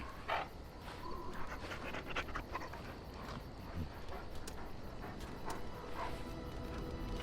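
Rapid, steady panting from a dog just after a bath in the video game Dragon Age: Origins, running moderately loud through the whole stretch with a faint whimper at one point and no talking.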